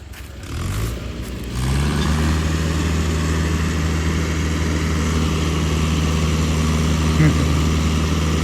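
A 4x4 tractor engine idles in farm fields and then settles into a steady low rumble that carries on throughout, with faint voices in the background.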